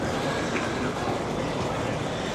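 TGV high-speed train at platform 7 of a station, a steady broadband rumble and hiss of rail noise filling the space without a break, with no distinct horn or squeal standing out.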